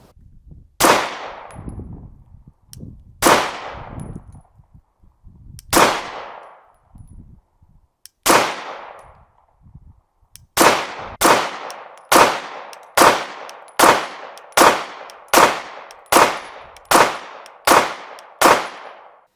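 Close, loud pistol shots from a Glock 19 Gen 2: a few slowly spaced single shots, then a quicker, even string of about a dozen sharp reports, each with a brief ringing decay, and no talk.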